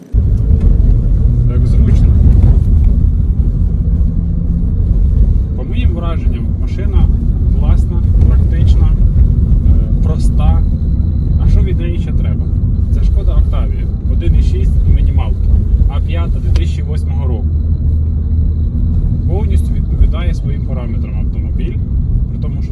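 Inside a Skoda Octavia A5 on the move, a constant low road and engine rumble fills the cabin while people talk over it at close range.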